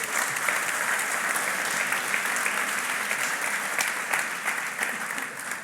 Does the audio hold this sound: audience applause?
yes